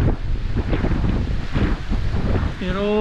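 Typhoon wind and heavy rain batter the microphone in a loud, continuous gusting roar, and a person starts speaking near the end.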